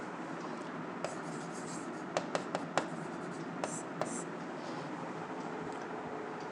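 Pen writing down given data by hand during an engineering numerical, soft scratchy strokes with a few sharp taps, faint and close against a steady background hiss.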